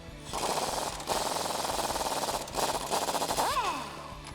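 Impact wrench or ratchet hammering on 16mm Jeep Wrangler TJ body bolts while fitting rock sliders, a loud continuous rapid rattle in bursts with brief pauses and a rising whine near the end.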